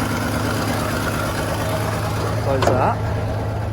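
A cheap Holden panel van engine idles just after starting, a steady, loud, low rumble with a slight rise near the end, while a person speaks briefly close by.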